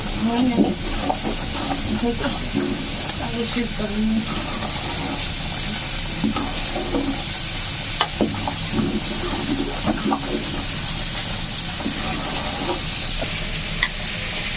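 Food for khichuri fries in a pan with a steady, loud, close sizzle throughout, broken by occasional stirring scrapes and clatter.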